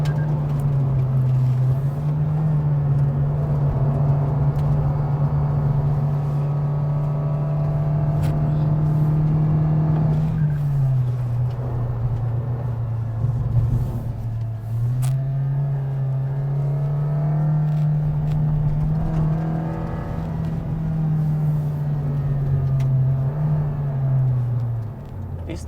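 A 2023 Toyota Vios with a CVT accelerates up a hill climb, its engine droning steadily inside the cabin, the pitch dipping briefly and rising again, a continuous close hum with road rumble and no talk.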